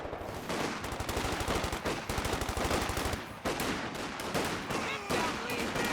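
Machine gun fire in the strategy game Company of Heroes 2, rapid continuous bursts of rattling shots with brief pauses, other scattered gunfire and battle noise layered underneath throughout.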